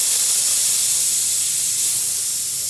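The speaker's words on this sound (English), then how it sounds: "Open your cleaner, clean off the excess air that's in the line." Compressed air bleeding from the fill line of a breathing-air cylinder at a fire station air room, a steady loud hiss that runs unbroken throughout with no talk.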